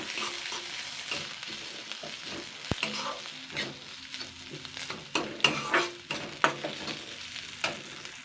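Ginger paste, green chili and a bay leaf being stirred in a hot pan: a soft, low sizzle with irregular spatula scrapes and knocks, close but fairly quiet.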